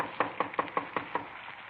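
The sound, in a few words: knocking on a wooden door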